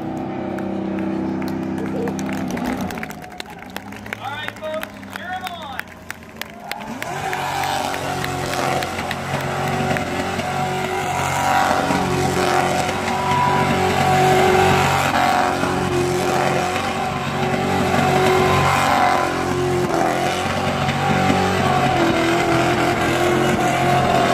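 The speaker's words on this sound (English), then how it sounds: "he just trying to keep the drift going like normal drifters" Drift cars at Oxford Plains Speedway roar continuously with revving, screeching engines and a broad, loud rumble, crowd noise underneath and people talking nearby.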